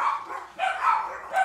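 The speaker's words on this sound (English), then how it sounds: "these dogs, they've been sleeping all morning" Dogs bark indoors in a few close, sharp bursts, with yips between them and no talk.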